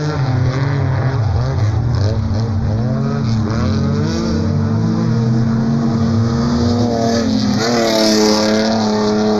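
Off-road short course race vehicles in the Class 7 Libre race at San José del Cabo, engines roaring loud and steady as they battle and pass close by, with no talk over the sustained motor noise.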